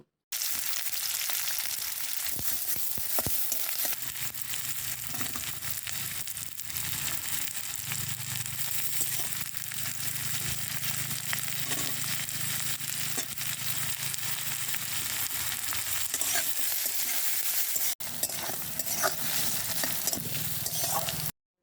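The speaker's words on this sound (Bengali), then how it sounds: "কড়াইয়ের মধ্যে আবারও সর্ষের তেল দিয়ে দেবো তারপর ওর মধ্যে ওই একে একে কেটে রাখা পেঁয়াজ কাঁচা লঙ্কা গাজর আদাগুলোকে দিয়ে হালকা করে ভেজে নেব" Onion, green chili, carrot and ginger fry in mustard oil in a wok, giving a steady close sizzle and crackle with occasional stirring scrapes throughout, no talking.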